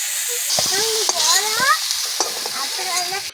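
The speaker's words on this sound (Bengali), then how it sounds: "ভালো করে ফুলকপিগুলো নেড়ে চেড়ে ভেজে নেব" Cauliflower pieces fry in hot oil while being stirred, a loud continuous sizzle with scraping strokes of a utensil against the pan, and clear tonal squeaks rising over the hiss.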